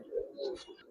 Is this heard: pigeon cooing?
yes